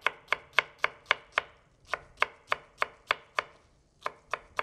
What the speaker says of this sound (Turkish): Doğramaya başladık.